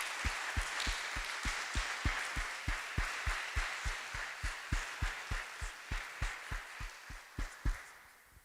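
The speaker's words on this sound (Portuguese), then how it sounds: "Você pode dar um forte aplauso ao Senhor nessa noite?" A church congregation at an evening service applauds loudly in a sustained wash of clapping, with a steady low thump pulsing beneath it about three times per second throughout.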